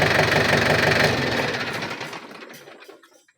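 A car engine idling after its accelerator part was replaced runs with a fast, even mechanical knock that holds steady, then fades and dies out over the last seconds, close and loud with no voices.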